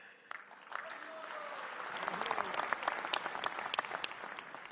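An audience claps at a ceremony marking the 150th birth anniversary of Srila Prabhupad, starting as scattered claps and building into dense, sustained applause from a large crowd.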